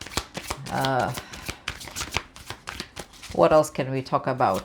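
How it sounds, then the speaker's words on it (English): Tarot cards are shuffled in a soft, rapid riffling patter running under continuous close speech from a reader. "I actually decided to shuffle more, so I guess I'll take one more card for that one."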